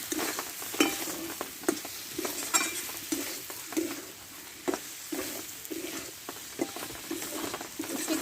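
Bitter gourd stir-fried with spices in a pan for a Bengali masala curry, a soft steady sizzle under repeated scraping and tapping from a spoon, close but fairly quiet.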